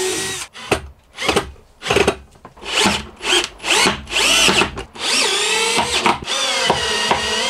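Power drill driving screws for a Victron MultiPlus inverter mount in a Citroen Relay camper van, loud close bursts of whining motor that rise and stop in short pulses, then one longer sustained run.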